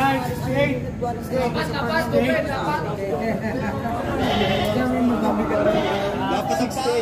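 Goats bleat repeatedly amid a crowd at the Padre Garcia, Batangas livestock market, their wavering cries overlapping close by under steady talk and chatter from people nearby.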